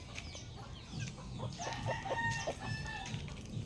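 Chickens cluck repeatedly while a rooster crows over a noisy outdoor background, fairly close and steady throughout.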